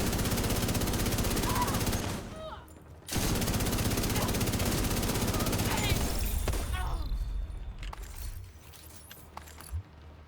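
Rapid, sustained automatic gunfire in a video game while shooting at a rusher, loud and dense for long stretches with a brief pause, then fading into scattered shots and mechanical clatter.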